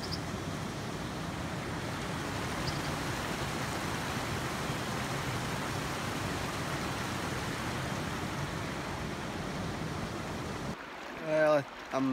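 Steady, continuous rush of a backcountry Idaho creek flowing over rocks, close and fairly loud for about eleven seconds before a voice briefly speaks at the end.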